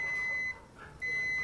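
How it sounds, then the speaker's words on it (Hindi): A multimeter's continuity-test buzzer gives a thin, high-pitched steady beep that cuts out briefly and then resumes, close and fairly quiet over faint room noise. "इसको आपस में मिलाएंगे तो इधर से बज़र बजेगी।"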